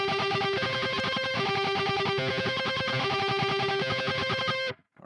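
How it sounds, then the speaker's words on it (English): Distorted electric guitar riff, a dense, driving, steady wall of chugging notes lasting several seconds before stopping abruptly, loud and with no one talking over it. "we've got this electric guitar doing the following."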